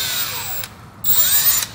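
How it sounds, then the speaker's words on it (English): A power drill bores into metal while an all-wheel-drive Honda viscous coupler is being installed, giving a steady close whine that dips briefly and then rises again with a falling then climbing pitch. "What's next, drilling?"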